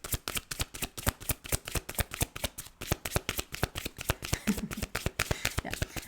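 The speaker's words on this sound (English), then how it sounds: "I'm just waiting for cards to pop out." Tarot cards are shuffled by hand in quick, even riffles, a close and continuous run of crisp papery bursts with no talking.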